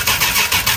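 A Dodge Challenger engine cranking over on its starter, triggered by a wire on the starter solenoid, with a rhythmic, pulsing whir repeating about every quarter second, loud and close, no voices.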